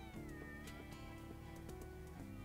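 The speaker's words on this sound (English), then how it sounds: "Look, there's a cat over there." A cat in the video game Dyscourse gives a string of repeated, drawn-out meows in a quick rhythm, faint and set against a steady game-sound background.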